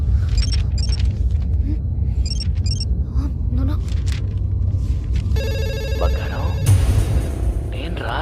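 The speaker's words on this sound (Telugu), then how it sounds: "మొబైల్ చేస్తుంటే లిఫ్ట్ చేయవంటే కనీసం ల్యాండ్ లైన్ అయినా తీ" A landline telephone rings in repeated short bursts, set against steady background rumble and other household noise in a Telugu comedy scene, with a separate electronic tone entering near the end.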